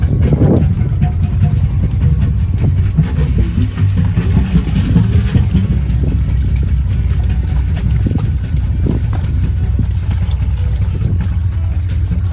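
A boat's diesel engine with a faulty A4 injector runs roughly and blows white smoke, a steady low rumble with uneven knocking throughout, loud and close, with brief voices over it.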